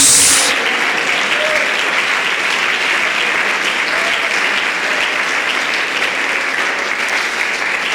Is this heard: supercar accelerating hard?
no